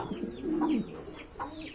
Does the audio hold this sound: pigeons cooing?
yes